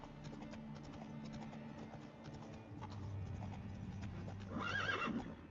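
The rider's horse in The Witcher 3: Wild Hunt trots with steady clip-clopping hoofbeats throughout, then lets out a loud whinny near the end over the game's ambient background.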